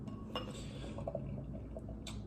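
Stout beer is poured into a glass at home, giving a soft liquid fill with faint clinks of glass, quiet and close over low background noise.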